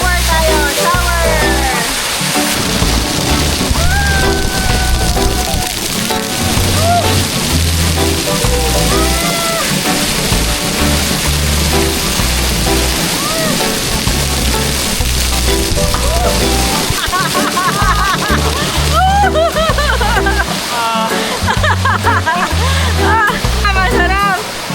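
Water sloshes and splashes steadily as people bathe in a river, loud and continuous, with voices calling and talking over it throughout.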